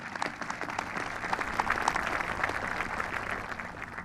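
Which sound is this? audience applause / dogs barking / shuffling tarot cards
audience applause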